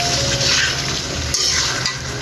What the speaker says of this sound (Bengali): তো আমি এভাবে নেড়ে চেড়ে আচারটা রান্না করে নেব